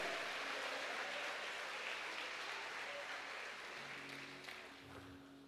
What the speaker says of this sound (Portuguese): Só quem pode aplauda Jesus, aplaude e glorifica a Ele.